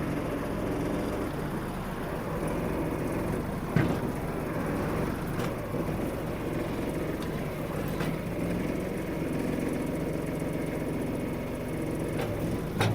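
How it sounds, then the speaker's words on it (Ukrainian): Kubota KL-230 Japanese mini tractor with its front loader working, a steady close diesel engine drone with faint hydraulic strain and a couple of light clunks, no talking. "Робота фронтального навантажувача."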